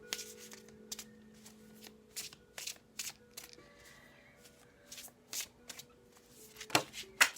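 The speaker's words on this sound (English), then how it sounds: "this is why I don't like shuffling on camera" Tarot cards being shuffled by hand, a series of short crisp riffling bursts at irregular intervals, close and moderately quiet, with no talking.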